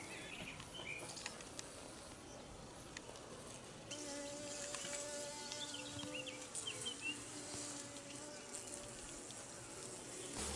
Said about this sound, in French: J'enfume à nouveau pour que les abeilles rentrent bien dans la ruche.